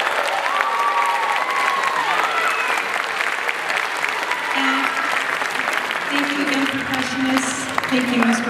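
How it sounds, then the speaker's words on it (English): Audience applauding a school choir at a concert, a dense, steady clapping from a full room that continues throughout, with faint voices and a few higher tones mixed underneath. "Let's give them one more round of applause."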